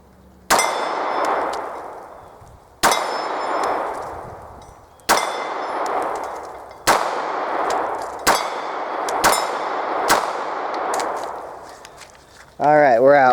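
Glock pistol fitted with AmeriGlo sights fired at a steel target, six sharp shots each followed by a ringing metallic clang that decays over a second or two, spaced irregularly, then a brief warbling tone at the end.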